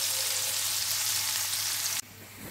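Salted onion sizzles in hot oil in a pan for a Bengali fish dish, a steady close frying hiss that cuts off sharply near the end.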